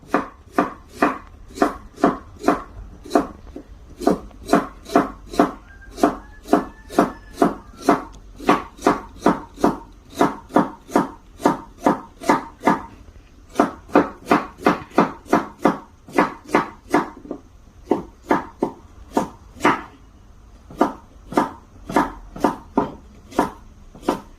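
A knife slices a carrot with three grooves cut along its length into thin flower-shaped rounds, striking the cutting board in a fast, steady series of crisp, close chops with brief pauses between runs.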